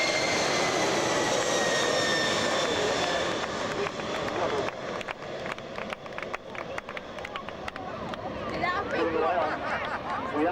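United Airlines Boeing 767-300 jet airliner flying past at an airshow, a broad loud roar that swells and fades while an announcer speaks over it.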